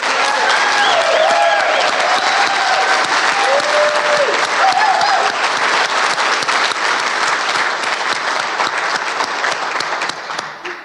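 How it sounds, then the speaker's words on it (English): Loud, sustained applause from a banquet audience at a community awards dinner, dense clapping filling the room for about ten seconds with a few voices mixed in before it tapers off at the end. "he deserves a round of applause"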